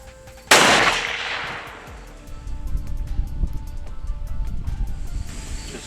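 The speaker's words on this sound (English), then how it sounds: "I'll have you shoot it right where it was." A gunsmith-built long-range rifle fires one sharp, loud report that decays quickly. An outdoor rumble and breezy noise continue afterward.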